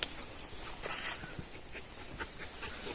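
A dog pants quietly close by, with a few soft whimpers and snuffles against low background noise.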